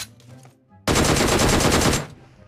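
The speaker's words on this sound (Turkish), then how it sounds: "önce soldakini vurdum" A single rapid burst of automatic gunfire from the video game PUBG Mobile lasts about a second, loud and close, after a quiet lead-in.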